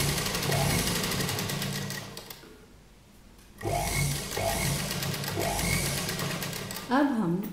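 A sewing machine stitches fabric for a yoke kurta in rapid, steady bursts that pause briefly while the needle is set and the fabric turned, then resume; someone talks over the stitching throughout.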